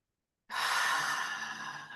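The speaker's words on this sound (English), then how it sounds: "one more deep, slow, grounding breath in." A deep, slow breath drawn in during a guided meditation starts after a brief silence, a soft, airy, sustained inhalation close to the microphone that fades gently toward the end.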